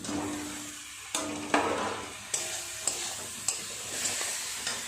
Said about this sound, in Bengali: একটু ভালো করে নেড়ে চেড়ে সবজি মশলা কষিয়ে নেবো একসাথে এইভাবে।